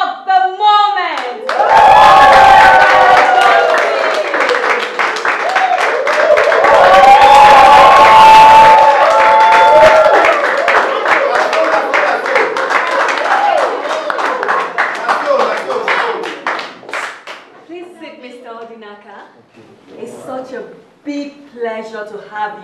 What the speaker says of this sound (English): the biggest applause for the man of the moment